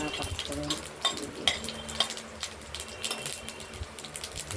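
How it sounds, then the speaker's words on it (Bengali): Vegetables stir-fry in hot oil in a kadai for a five-vegetable dish, with a steady sizzle, clinks of a spatula against the pan and scraping stirs, fairly close and without talk. "কড়াইতে তেল দিয়ে"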